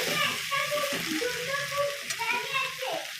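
Food frying in a pan makes a soft, steady sizzle beneath a person talking nearby, and the frying stays quiet and in the background throughout.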